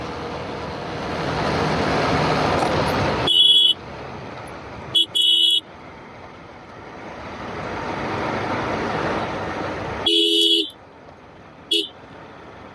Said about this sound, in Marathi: इथं मित्रांनो सारखे हॉर्न वाजवायला लागतात.